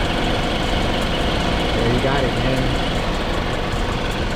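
A BMW F30 engine with a newly fitted drive belt idles in cold weather, a steady low hum and whir running evenly beneath a voice.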